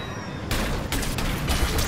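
Y-Wing bombing run explosions in Star Wars Battlefront 2, a dense, loud roar of blasts and rumbling impacts that sets in abruptly and continues with overlapping booms.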